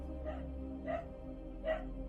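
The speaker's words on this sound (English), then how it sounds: "Sorry about the dog." Three faint dog barks spaced apart, muffled and distant over a low steady hum.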